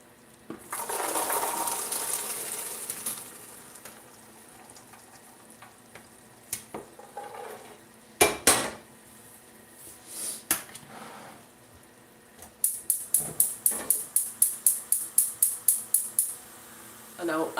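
Cooked beans being strained from a pot in a home kitchen: a sloshing pour of water with clattering pot sounds, then a quick run of rhythmic metallic taps near the end, loud and close with no talk.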